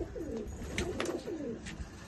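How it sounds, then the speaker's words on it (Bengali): Green-eyed pigeons coo softly in a few rounded, looping calls close by, with a faint background hiss and no talking. "গ্রিন আইস পায়রা দেখো"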